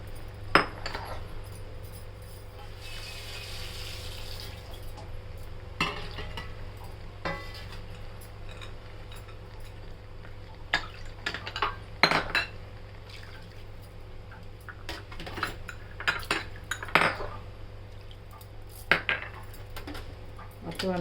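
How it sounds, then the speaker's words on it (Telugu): Paneer mix curry and water are stirred in a pan, a spoon clinking and scraping against the metal in irregular bursts over a low steady hum, with no talking. "మొత్తం అంతా కలిసేటట్లు కలుపుకోవాలి."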